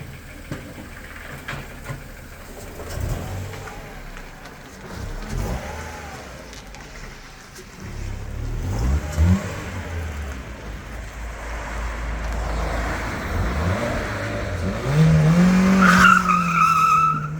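A repaired Ford Fiesta on a test drive, its engine droning steadily with road and tire noise that builds louder toward the end, plus a brief squeal near the close.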